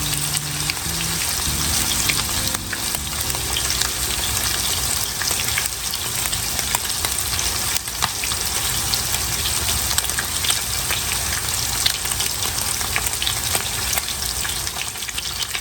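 Blackened catfish fries in a pan, a loud, steady, close sizzle with dense crackle that holds evenly throughout, with a brief low murmur at the very start.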